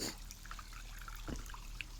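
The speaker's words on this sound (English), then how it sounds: "just showing you the waterfalls now" Water trickles and splashes over a garden pond waterfall in a tropical-style UK garden, a soft continuous babble with small drips and splashes, fairly quiet and heard alone.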